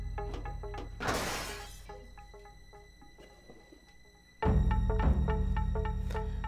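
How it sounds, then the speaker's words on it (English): Glass breaks in the video game Police Quest: SWAT, a sharp shattering crash near the start set against an electronic musical loop. "They would definitely hear the glass break."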